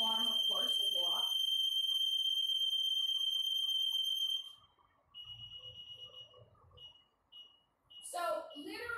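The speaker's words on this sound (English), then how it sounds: "My alarm, of course, will go off." An electronic alarm rings with a steady high-pitched tone for several seconds, then beeps intermittently, starting under a person talking and ending as speech resumes.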